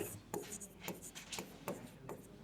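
A teacher writes during a Bengali-medium English grammar lesson, giving faint, close scratchy strokes in a loose rhythm of about five short bursts.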